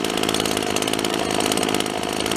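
Old Sears Best two-stroke engine idling with both carburetor screws backed all the way out, a loud, steady buzzing drone with a fast rhythmic putter that holds throughout.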